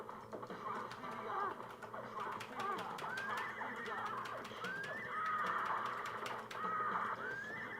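Horses neigh and whinny in the arcade game Rastan Saga 3: Warrior Blade, with several wavering cries over a busy bed of game effects and sharp hits, continuous and fairly faint.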